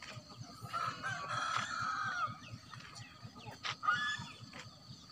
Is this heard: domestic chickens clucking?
yes